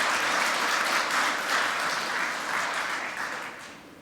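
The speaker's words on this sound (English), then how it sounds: "can I get a really massive round of applause for Gary and Sergeja?" Conference audience at a cybersecurity talk applauding the speakers, full steady clapping close by that slowly tapers off over four seconds.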